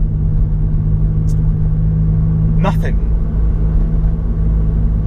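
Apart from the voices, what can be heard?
Honda Accord Type S CL9 engine and exhaust driving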